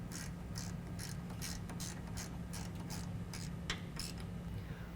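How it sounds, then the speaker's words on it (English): A hand ratchet with a 12 millimeter socket tightens a serrated flange nut during a suspension lift kit install, giving a quick, even run of close, crisp clicking pawl strokes over a steady low hum. "This gets tightened down with a 12 millimeter."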